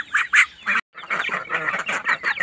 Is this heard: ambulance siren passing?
no